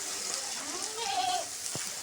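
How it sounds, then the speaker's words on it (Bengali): A goat gives a single short bleat, mid-distance, over steady background hiss in a rainy village setting. "আর দেখুন ছাগলগুলান দেখুন 3 দিন থেকে ওরা ওখানে বাঁধা।"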